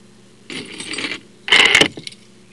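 A bunch of barrel-type handcuff keys jangling close up in two bursts, a softer shake followed by a louder, brighter rattle with a last small clink.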